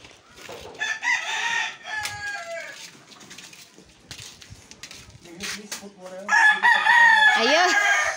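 Native chickens cluck and a rooster crows repeatedly, with voices chattering underneath and a loud crow near the end.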